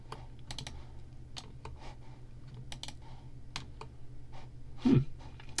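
Mouse clicks sound while playing a Battle of Borodino computer game, a scattering of sharp, fairly quiet taps at irregular intervals over faint background hum.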